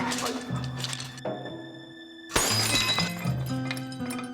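An object smashed to pieces during a heated family quarrel in a comedy scene, with loud bursts of shattering and crashing under a music bed and clinking debris afterwards.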